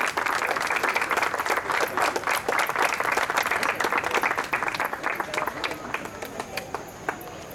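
An audience at a tribute concert to Paraguayan music figures claps in a dense, loud round of applause that thins and fades toward the end, with a few voices faintly mixed in.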